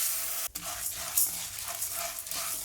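Chana dal roasting in sesame oil with tamarind and curry leaves, a steady sizzle broken by occasional scraping stirs, close and moderately loud.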